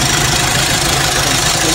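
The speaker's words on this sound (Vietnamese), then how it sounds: "Lắp lên đang cho máy nổ để kiểm tra lại nha các bạn." A Kia Sedona engine runs steadily after its intake and throttle body were cleaned, giving a loud, continuous, rough idling rumble with no voices.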